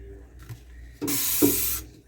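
A wet roasting pan is sprayed with cleaner at a kitchen sink: one loud, steady hiss of spray lasting most of a second, close by, after a few quiet handling sounds.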